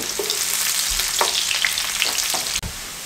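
Sliced onion sizzles and fries in hot oil for a dhaba-style daal, a steady loud crackle with a few stirring scrapes and a brief clunk near the end.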